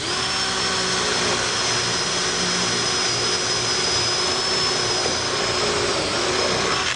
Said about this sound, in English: I'm ready to drill these out